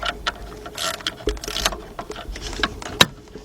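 A socket ratchet tightening the alternator belt bolt on a 2001 Saturn L300 with a 3.0 engine, a series of quick irregular clicks and metallic taps close by, ending in one sharper knock.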